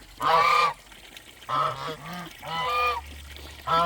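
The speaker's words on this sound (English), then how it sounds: "these guys, they are so loud, but they are so beautiful. I think that African geese are one of the most beautiful ducks, or geese." African geese honk loudly in a few bursts of harsh, nasal calls from birds close by, separated by short quiet gaps.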